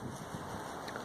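Wind rushes steadily past a phone microphone on a chilly evening, a brief, soft, broadband buffeting with no voices.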